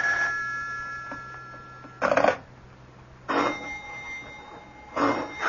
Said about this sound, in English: Do something about that confounded phone.